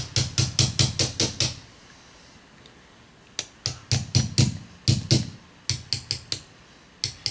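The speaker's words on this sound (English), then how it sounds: "I take my punch right there in the hollow side of the pin, like that, and my big fancy hammer." A hammer drives a punch against a pin in a GI 1911 pistol during a spring change, making close, sharp metallic taps in quick bursts of several strikes separated by short pauses.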